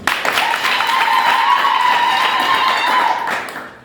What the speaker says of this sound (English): Let us all give a great round of applause to our donors.